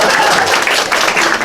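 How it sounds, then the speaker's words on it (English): A loud, dense round of applause from a congregation at a Sunday spiritual service, sustained and close throughout in honor of a departing guest. "let's give him a round of applause"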